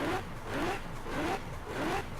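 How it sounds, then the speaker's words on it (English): In Forza Horizon 4, a V12 car's audio glitch repeats a whooshing, warbling pulse roughly every half second, steady and fairly quiet with nothing else around it. "it's doing this audio problem where, like, when I get into a V12 or V10 car, it makes this noise."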